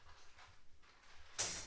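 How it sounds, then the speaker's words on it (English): A door slides and bumps shut indoors on a quiet morning, with soft shuffling followed by a brief, sharper closing sound at the end. "you're shutting the door behind you"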